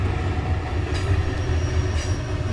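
A retired former Santa Fe locomotive, number 5704, rolls by with a steady, loud, deep rumble of engine and rail cars, faint metallic wheel squeals rising over the continuous roar.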